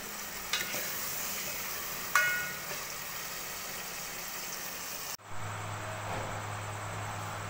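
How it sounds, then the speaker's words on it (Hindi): Chopped onions dropped into hot oil in a pan for aloo anday, a steady close sizzle and frying hiss with a sharp burst of crackle partway through as they land, continuing alone without talk. "अब हमने इसमें जो है प्याज डाल देने हैं। हमने प्याज डाल दिए।"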